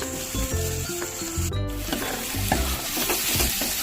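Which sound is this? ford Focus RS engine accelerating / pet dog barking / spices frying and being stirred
spices frying and being stirred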